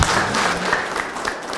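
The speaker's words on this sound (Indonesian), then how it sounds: "Ya, tepuk tangan" An audience in a televised school gathering on character and culture claps steadily, a dense wash of applause that stays even and loud throughout the short moment.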